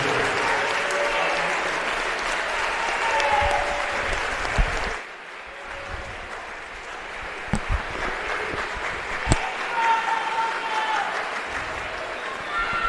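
Applause for senior players on senior night at a high school boys basketball game, a steady broad clatter of clapping filling the gym for about five seconds, then thinner scattered claps with occasional sharp single hits.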